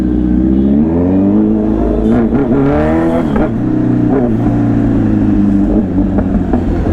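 A Kawasaki Z900 superbike engine runs loud and close, rumbling at idle and then revving in sharp blips that rise and fall before returning to a steady growl, with no talking.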